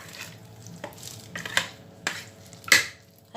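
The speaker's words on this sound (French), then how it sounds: "Après les ailes, on va tout mélanger" Chicken wings being stirred in soy sauce in a pan, with soft scraping, a few sharp clicks of the utensil and light sizzling, close but fairly quiet.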